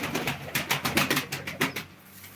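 Pigeons coo in a quick, rhythmic run of throaty pulses at a live pigeon auction, fairly close and steady before fading near the end.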